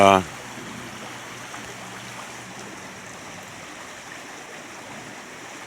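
A stream of flowing water rushes steadily outdoors on a rainy, foggy day, a continuous close hiss of water that carries on alone after a brief burst of speech at the very start.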